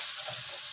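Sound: potatoes frying in oil

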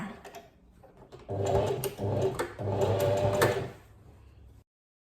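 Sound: sewing machine stitching a pants pocket

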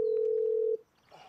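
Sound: telephone dial tone before calling

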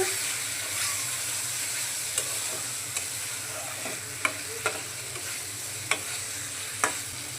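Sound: frying fried fish with spice paste in a pan

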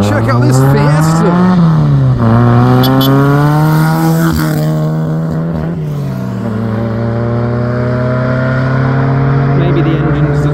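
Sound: Ford Fiesta car driving past

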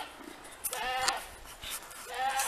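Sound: goat bleating in a yard

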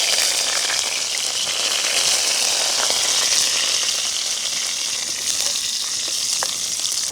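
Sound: mustard seeds and curry leaves sizzling in hot oil

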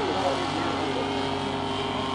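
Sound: autogyro landing

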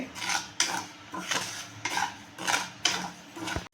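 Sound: roasting fennel seeds in a pan

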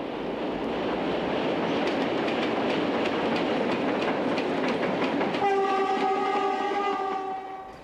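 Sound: Portuguese Railways class 1400 diesel locomotive train on Douro line

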